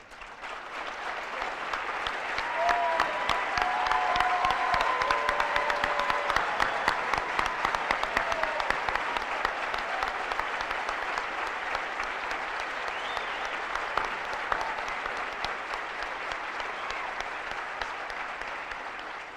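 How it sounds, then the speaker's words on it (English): Large audience at a senior awards night giving military veterans a long, sustained round of dense applause that swells and holds steady, with faint crowd murmur underneath. "please stand and receive a round of applause for your service and dedication"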